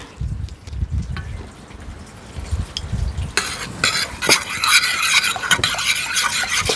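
A rice flour and water mixture for kimchi paste is stirred briskly, giving close, rhythmic low scraping strokes that give way to a denser, brighter rustling churn in the second half, with no talking.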